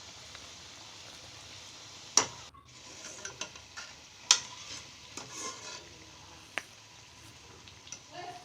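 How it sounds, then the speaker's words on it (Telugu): Cauliflower pakoda pieces fry quietly in oil, a low steady sizzle punctuated by several sharp taps and clinks as the pieces are turned over, with no talking. "ఇప్పుడు ఇంకో సైడ్ టర్న్ వేసుకోవాలి ఆ ముక్కల్ని."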